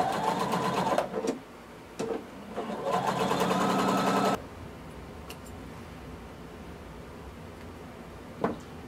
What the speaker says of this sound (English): I'm going to sew a quarter inch from that fold